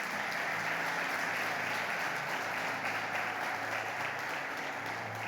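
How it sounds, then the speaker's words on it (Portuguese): A church congregation applauds during a sermon, a steady, continuous wash of clapping that sounds somewhat distant and holds at an even level. "Aplauda o seu Jesus"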